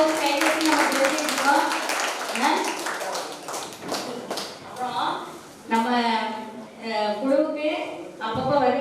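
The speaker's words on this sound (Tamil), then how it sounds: "கைத்தட்டி நம்ம தெரிஞ்சுருக்கோம்" Audience clapping at a Christmas celebration held by a prayer group, bursts of hand claps mixed with someone talking through a microphone over the hall.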